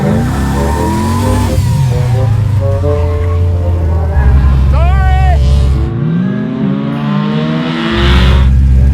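Loud engine of an LS V8-swapped Mazda Miata drift car revs and drones continuously throughout, with pitch rising and falling, while people talk over it.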